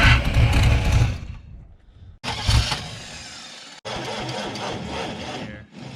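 A carbureted 350 small-block V8 in a 1989 Chevrolet CK1500 pickup runs rough with spark plug wires pulled, loud close engine bursts broken by brief near-stalls, then a steadier uneven idle.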